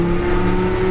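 A 1965 Ford shortbox pickup truck accelerates, its engine holding a steady, loud mid-pitched drone that swells slightly as it pulls, heard close from inside the cab without talk.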